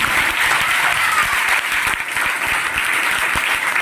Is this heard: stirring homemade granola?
no